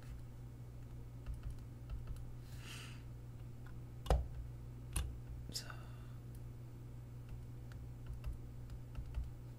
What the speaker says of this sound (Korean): Shift 키 누르고 클릭하는데 자, 인풋 하나 잡겠습니다.